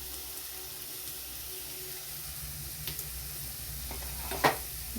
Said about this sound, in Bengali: একসঙ্গে নাড়তে থাকবো।